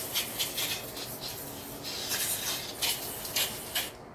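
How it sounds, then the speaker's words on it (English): Brake fluid filter from a 2004 Honda CR-V being washed out: a continuous close hissing spray with rhythmic pulses of rubbing and splashing, no speech. "So we want to wash this out."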